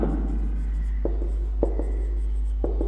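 A teacher writes words on a classroom board during a Bangla grammar lesson, with a few sharp taps and soft scratches over a steady low hum.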